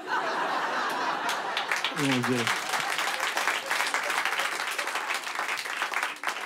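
Audience applause fills a comedy show, dense sustained clapping throughout, with a brief burst of laughter and a voice shouting early on under the clapping.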